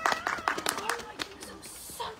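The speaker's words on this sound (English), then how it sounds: "Can you give them a round of applause?" Scattered round of applause from a church congregation at a Christingle service, a brief burst of fairly faint claps mixed with cheering voices.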